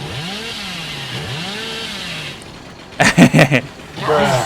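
The Hillbilly's chainsaw in Dead by Daylight revving in rising and falling whines, then a burst of rapid cutting rattles and a renewed roar, loud and close, with a voice speaking over it.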